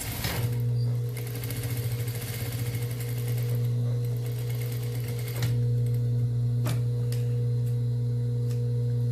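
A sewing machine runs backup stitches on fabric with a heavier-weight thread, a close, rapid mechanical chatter over a steady motor hum that slows and stops partway, followed by a few sharp clicks.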